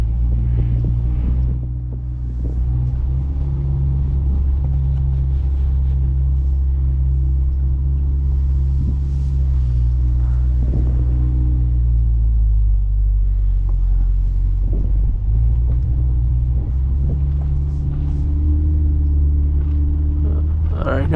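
A sports car's engine, a Nissan GT-R R35 or Chevrolet Corvette C8, rumbles low and steady as it pulls away in manual mode and cruises, with wind noise and road rumble throughout.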